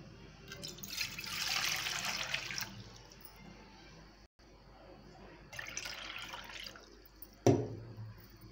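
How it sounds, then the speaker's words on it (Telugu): Water pours into a cooking pot in two splashing bursts, the first longer, followed by a sharp knock near the end. The sound is close and moderately loud, with no talk. "దీంట్లో మళ్ళీ వాటర్ పోసుకొని"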